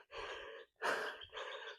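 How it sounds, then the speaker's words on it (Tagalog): Heavy, ragged panting from a jogger on an early-morning run in Santa Maria: three loud, breathy gasps in quick succession, with brief pauses between them and no other sound. "Hingal."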